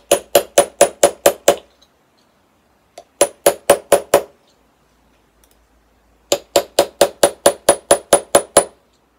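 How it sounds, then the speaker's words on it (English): Three bursts of sharp metallic hammer taps for chasing and repoussé jewellery work, six to eight quick evenly spaced strikes each, close and ringing, separated by short pauses. "I need to hammer it a bit more."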